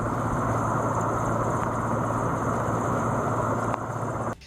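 A rescue helicopter hovers over floodwaters in Jamnagar during an airlift of a stranded man, its rotor and engine producing a loud, steady roaring drone that continues without a break before cutting off abruptly at the end, with no speech.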